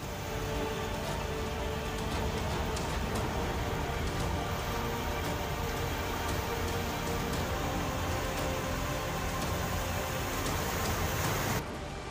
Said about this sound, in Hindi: उत्तराखंड में पिछले 2 दिनों से बारिश का सिलसिला लगातार जारी है